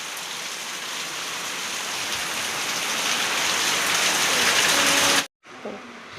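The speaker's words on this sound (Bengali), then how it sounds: "এত একটা জোরে বৃষ্টি এসছে" A heavy downpour roars in a loud, dense, steady wash of drops on surfaces, then cuts off abruptly near the end, leaving only faint low sounds.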